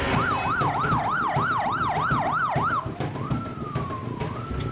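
Ambulance of the Taguig City Rescue Team arriving at a road accident on C-5, its siren wailing in a fast rising-and-falling yelp, then switching to a slower sweeping tone, loud and close over traffic rumble.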